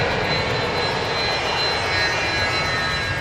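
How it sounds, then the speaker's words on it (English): A fixed-wing airplane on a runway spools its engine up for takeoff, a steady, loud broadband roar with a high whine, heard alone without talk. "He's swinging right onto the runway. He's cleared to take off. He's spooling it up."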